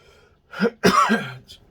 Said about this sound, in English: I'm not going to apologise for coughing anymore